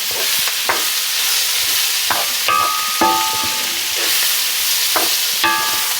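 Stuffing mix sizzling in a pan while a utensil stirs and scrapes it, with a steady frying hiss broken by several sharp clinks and scraping strokes at irregular intervals.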